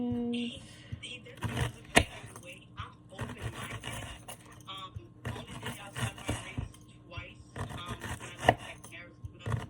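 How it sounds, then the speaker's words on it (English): Onions being chopped with a knife on a cutting board: rhythmic bursts of quick chops and occasional scrapes, with a voice talking in between. "let me just chop a few onions"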